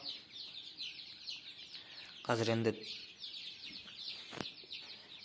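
Farmyard chickens and turkeys cluck and chirp at a distance in a steady scatter, while someone speaks briefly in the middle.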